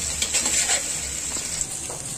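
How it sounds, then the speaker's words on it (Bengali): Chopped native onions fry in hot oil toward light golden, giving a steady close sizzle with brief stirring scrapes of a utensil in the pan, alone and without voices. "দেশি পেঁয়াজ ও পেঁয়াজ কুচিটা আগে একটু হালকা বেরেস্তা কালার করে দিব"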